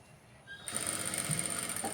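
A sewing machine stitches a pico fall along fabric edging, a brief steady mechanical whir that starts partway in and runs on to the end.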